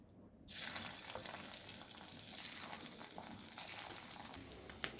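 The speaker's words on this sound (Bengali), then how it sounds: "তেল দিয়ে আমি মাছের ডিমগুলো ভালো করে ভেজে নেব" Fish roe frying in hot oil in a kadai gives a steady, close, crackling sizzle that carries on without a break and without voices.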